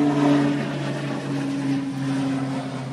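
A Pilatus PC-12 turboprop takes off in strong crosswinds during a storm at Manchester Airport, heard as a loud, steady droning propeller and engine roar with a sustained low hum, nearby and continuous.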